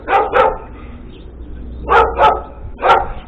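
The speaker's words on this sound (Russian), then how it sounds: "Вот там собака." A dog barks in quick pairs and singles, five sharp barks with short pauses between them, fairly close.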